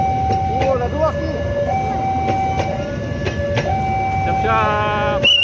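The Argo Sidoro passenger train passes close by in Indonesia, a loud rolling rumble with clattering wheels and bright horn-like tones, as voices talk over it.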